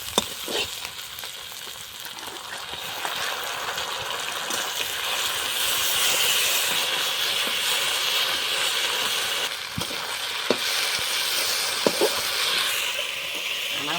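Ground spice paste frying in a pan for a Bengali chicken and potato curry, with onion and cumin already added, giving a steady loud sizzle with occasional stirring scrapes and no talk.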